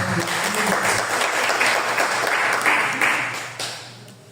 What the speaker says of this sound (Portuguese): Vamos ouvir também a diaconisa Vera, vamos receber a salva de palmas.